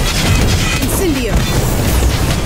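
Incendio fire spell cast in the mobile game Harry Potter: Magic Awakened, a dense crashing burst of magical fire over steady, loud game effects and music for the whole stretch.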